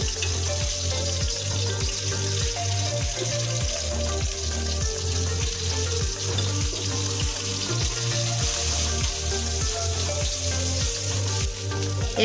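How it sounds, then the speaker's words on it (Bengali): Marinated chicken fries in hot oil in a wok, giving a steady, dense sizzle throughout with faint rhythmic low thumps underneath. No one speaks. "তারপর কড়াইতে তেল গরম করে ম্যারিনেট করা চিকেন ভেজে নেব।"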